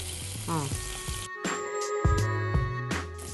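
Cumin seeds and asafoetida crackle and sizzle in hot ghee in a pan, a close, steady frying hiss with occasional stirring scrapes and brief pauses.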